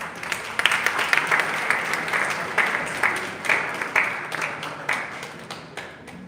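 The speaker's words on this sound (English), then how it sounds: "Give a big round of applause." An audience at an international academic conference applauds steadily, a dense wash of clapping that holds at an even level and fades slightly toward the end.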